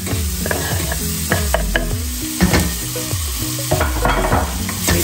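Onion and garlic sauté in butter in a pot for a Portuguese bacalhau com natas, with a steady close sizzle and the repeated scrape and clack of a stirring utensil, no voices.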